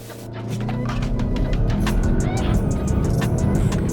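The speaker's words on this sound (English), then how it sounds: "So we are going to launch the Tiguan. So it does have launch control." A 2022 Volkswagen Tiguan Allspace 162TSI R-Line SUV launches hard from a standstill, its engine roaring loud and steady as it pulls away and accelerates continuously, with faint voice under the engine noise.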